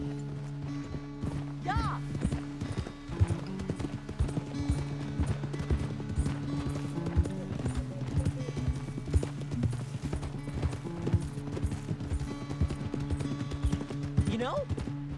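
Horse hooves gallop in steady rhythmic clip-clop over a sustained musical score in the Red Dead Redemption 2 video game, with a brief spoken word and a faint whinny-like rising tone.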